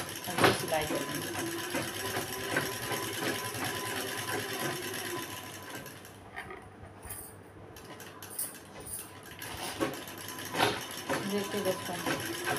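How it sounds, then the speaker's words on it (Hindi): A sewing machine stitches the waistband band of a blouse in steady runs of rapid mechanical clatter. A pause in the middle breaks the stitching before it resumes, with light handling noises and a voice speaking throughout. "इसको पलट के इसी प्रकार सिल लेंगे"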